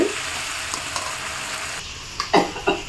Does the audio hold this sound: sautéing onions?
yes